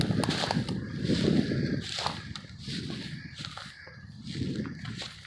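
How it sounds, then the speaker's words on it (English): Footsteps crunch over loose debris inside a 150-year-old abandoned stone house in Pickering, Ontario, in slow, uneven steps close by, with brittle cracking and scraping as each foot lands. "I'm sure you can hear the crunching"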